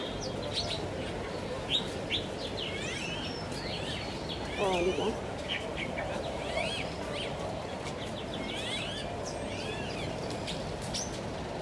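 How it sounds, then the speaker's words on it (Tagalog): Birds chirp and tweet in scattered bursts at a street market in Mong Kok, Hong Kong, against a steady outdoor background, with a person speaking briefly partway through. "Oh, dito naman ibon."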